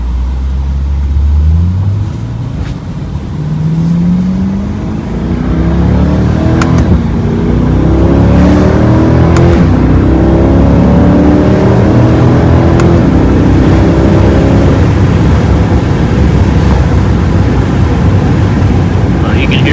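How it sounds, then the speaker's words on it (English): A Corvette C8 engine revs and blips through downshifts, its pitch sweeping up and down repeatedly in loud, steady passes, with a voice talking over the engine. "you can hear some of the downshifts here"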